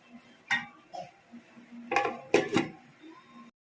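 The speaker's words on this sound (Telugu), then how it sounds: "మూత పెడదాం." A metal lid settles onto a pot of chicken dum biryani with a few clanks and clinks, loudest in a cluster near the middle, separated by quiet gaps.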